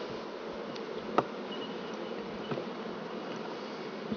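Honey bees at a beehive drone in a dense, steady buzz, fairly quiet and close, with a few faint clicks and knocks from hive work.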